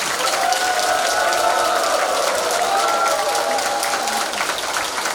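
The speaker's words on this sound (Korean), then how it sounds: "동의하시는 여러분들 박수 한번 주세요" A big lecture-hall crowd claps at length, a dense, even roar of applause with a few cheers and faint voices drifting through, fading only slightly near the end.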